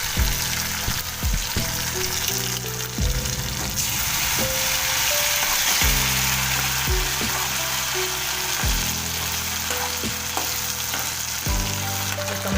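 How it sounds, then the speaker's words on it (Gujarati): Stuffed bitter gourd curry in gravy sizzles steadily in a pan, with repeated scraping stirs of a spoon cutting through the continuous frying hiss. "ચડી રહ્યું છે તેને આ રીતના આપણે હલાવતા રહીશું"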